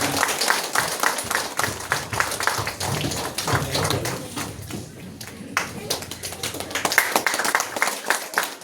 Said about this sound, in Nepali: ताली सबैले ताली बजाऊ